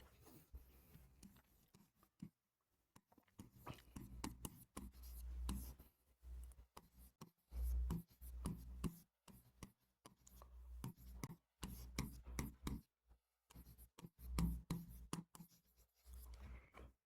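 Chalk or marker scratches across a board in a classroom, quick irregular strokes and taps in bursts separated by short pauses, close and clear.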